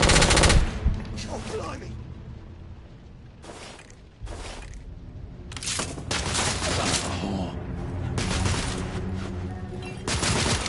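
Gunfire erupts in The Order: 1886, a Victorian-era shooter, aboard a crippled airship, with bursts of rapid automatic fire and crackling shots coming in waves across the scene while a man cries out briefly.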